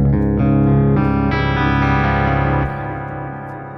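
Electric guitar chords ring out, stepping up in pitch, then a final chord decays with a reverberant tail.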